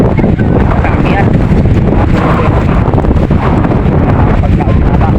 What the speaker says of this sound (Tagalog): Malakas ang amihan ngayon.